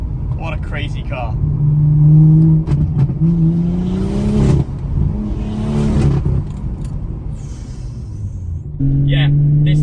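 A BMW M235i with a modified, loud exhaust revs hard, a deep rumbling engine note swelling and falling over several seconds while people talk nearby throughout.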